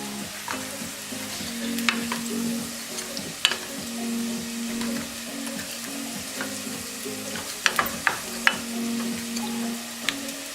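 A vegan sloppy joe mixture is being stirred and poked in a pan that is too small, with steady sizzling and frying under scattered utensil scrapes and sharp clicks against the pan, close up.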